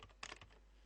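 Single F1 key pressed on a computer keyboard, a short cluster of faint plastic clicks lasting under a second, close by in a quiet room.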